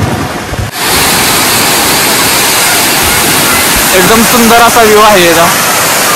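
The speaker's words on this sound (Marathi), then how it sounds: "तर पाणी असं एकदम धबधब्यासारखं पडतंय." Water pours from a dam like a waterfall, a loud, continuous roaring rush that fills the scene while someone speaks over it.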